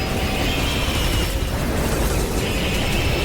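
A missile shot in the Metroid Dread video game, a dense, loud blast of explosive noise with mechanical clatter that holds steady through the whole few seconds.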